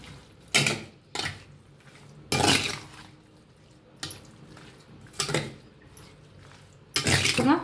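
Kosambari salad with curd, peanuts, salt and sugar being mixed in a bowl, giving several short clattering and scraping bursts with quiet gaps between them, close and moderately loud.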